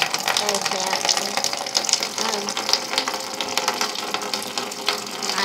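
Water flows and trickles steadily during sparging while brewing bitter beer from grain, with a bright, splashy hiss and some faint mechanical clicking underneath.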